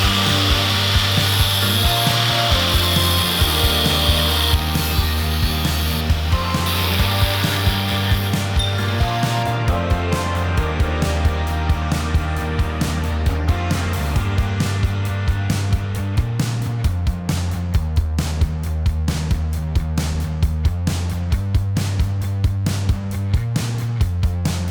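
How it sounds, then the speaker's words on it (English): Power tool grinding and cutting metal parts for a go-kart independent rear suspension build with a Predator 420cc engine, a steady harsh whine with rhythmic repeated strokes throughout, loud and close, no talk. "So after a substantial amount of grinding and cutting, that wasn't fun, that sucked."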